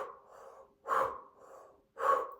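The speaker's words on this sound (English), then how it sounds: "we're breathing through the O-shaped mouth" During a yoga routine, someone breathes through an O-shaped mouth: two loud, close airy breaths, each followed by a softer, longer breath, in a steady rhythm.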